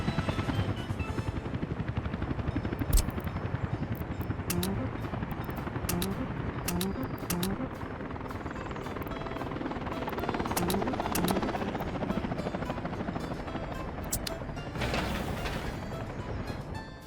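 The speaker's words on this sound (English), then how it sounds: "Helicopters are delivering materials." Helicopters ferrying construction materials in the city-building game Workers & Resources: Soviet Republic give a steady, loud rotor drone with mechanical clatter and occasional sharp ticks, running throughout with no talking.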